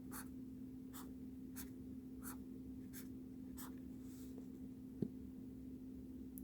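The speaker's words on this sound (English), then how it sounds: "If I draw this right here" A pen draws on paper in a quiet, close series of short scratchy strokes at a loose, regular rhythm, with a small tap partway through and no talking.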